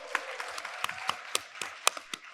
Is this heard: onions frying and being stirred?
no